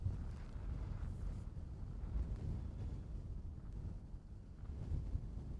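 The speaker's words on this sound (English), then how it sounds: "Wind's going that way." Wind rushes across an open golf course in a steady, low buffeting roar against the microphone, with no other sounds standing out.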